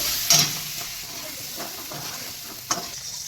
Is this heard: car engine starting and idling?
no